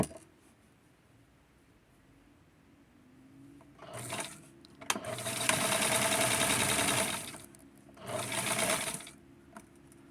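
A sewing machine stitching a doll garment in Francie Mini Checks style, with short bursts of fast, whirring needle running separated by pauses: a brief run, a longer steady run, then another short burst, close and clear.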